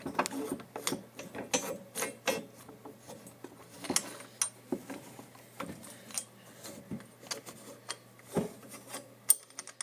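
The spring is worked loose from a shock absorber body, producing a quiet sequence of clicking, ratcheting and rubbing metal sounds in irregular bursts nearby, over a low steady hum.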